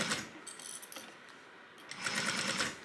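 A sewing machine runs a seam at a 3/8 inch allowance in two short bursts, close and moderately quiet, with a brief slowdown in between.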